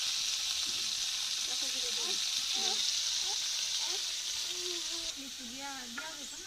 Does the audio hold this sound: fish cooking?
yes